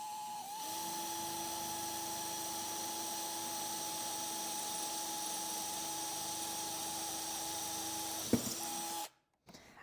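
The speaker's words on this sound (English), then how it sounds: "go ahead and drill your hole" A power drill bores holes for cabinet and drawer hardware, a steady high whine held for about eight seconds before a brief catch as the bit breaks through, then it stops, close and loud.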